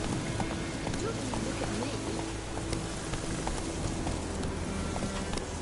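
Hooves beat in a fast, steady galloping rhythm as a horse runs in the Witcher III video game, a continuous dense clatter over loud ambient noise, with a voice speaking over it.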